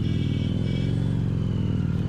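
A Harley motorcycle engine on the road during a day ride, a loud, steady low rumble with a throbbing beat, close and continuous without talk.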